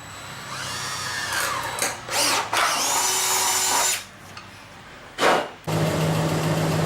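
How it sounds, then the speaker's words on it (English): A power drill bores a hole in the metal of a 1994 Ford Explorer, whining in several bursts with short pauses between, loud and close, its pitch rising and falling as it bites into the metal. "carefully drill a hole"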